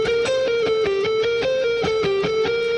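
A distorted electric guitar plays a fast classic lick with inside picking: rapid, evenly spaced notes in a repeating pattern, close and steady in loudness, with no voices.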